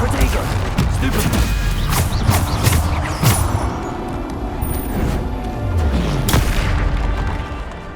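Bombarda blasting spell explosions in the video game Hogwarts Legacy, repeated loud booming blasts and crashes over a dense, noisy battle din, with sharp impacts scattered throughout.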